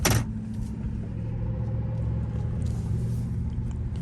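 A Dodge Charger R/T rumbles along with a steady low engine drone and road noise from inside the car, with no one speaking.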